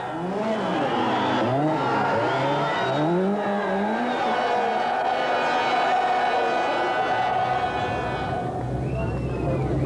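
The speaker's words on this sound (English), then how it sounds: "who's being held up by another Italian car, an Alfa Romeo driven by Bertrand Ballas." Rally cars, including Italian entries such as an Alfa Romeo, race at the 1985 Rally Monte Carlo. Engines rev loudly and continuously with rising and falling pitch, and a narrator talks over them.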